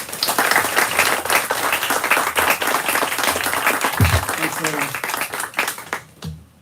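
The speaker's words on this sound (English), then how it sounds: "please give a round of applause for our guest this evening, Tom Perrotta." An audience at an evening author event at Brookline Booksmith applauds loudly and continuously, dense clapping filling the room before fading out, with some voices mixed in.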